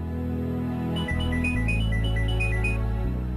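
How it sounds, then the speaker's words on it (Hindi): A phone rings with a repeating electronic melody in a quiet room, heard alone over a low steady background hum. "चाचू का फोन है, आप ही उठाइए।"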